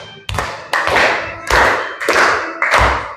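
Children clap their hands in time to a traditional song in a classroom, five distinct, evenly spaced loud claps with sharp attacks ringing close to the recorder.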